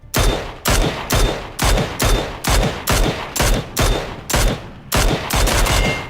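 Rapid rifle fire from a Ruger Mini 14 in the PUBG video game, about a dozen loud sharp shots in quick bursts, each with a short echoing tail, with no voices over them.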